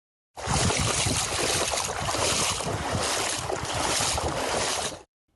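A thunderstorm with strong wind and heavy rain sweeps over Ukraine, producing a dense, steady roaring hiss that swells and eases in waves for several seconds before cutting off abruptly.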